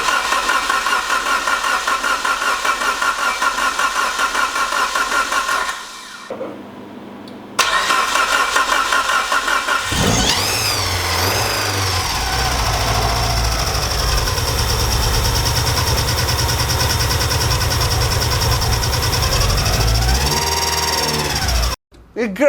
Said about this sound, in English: So the car started, but it wasn't idling properly